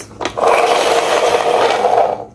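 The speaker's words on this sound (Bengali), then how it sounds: "গাইস আমি কিন্তু এক এক করে হুইলগুলো লাগিয়ে দিচ্ছি।" A wheel is pressed onto a plastic toy vehicle, starting with a quick click and moving into a continuous close rubbing, grinding scrape for about two seconds, with no voice.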